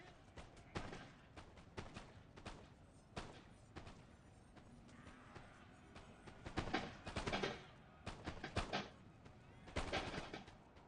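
Musket volleys in the Napoleon Total War strategy game, a faint, distant series of sharp cracks and scattered shots, some clustered into rolling volleys, over a low battlefield murmur.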